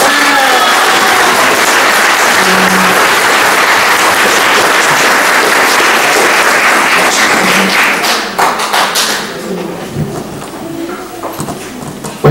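A ceremony audience in Moquegua claps loudly for a new EsSalud director in a dense, sustained burst of applause that thins out and fades over the last few seconds.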